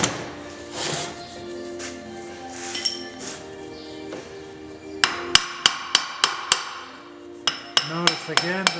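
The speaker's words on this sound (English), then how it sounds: "Notice again that he's using a hammer, a lead hammer or aluminum hammer" Lead or aluminum hammer knocking ejector pins out of a plastic injection mold cavity, a run of sharp metallic strikes in quick irregular succession, loud and close, with quieter clinks and handling noise before.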